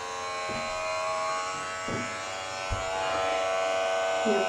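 An electric razor buzzing steadily as it shaves a man's beard, a continuous close hum with small shifts in pitch as the head moves, and brief voices in the background.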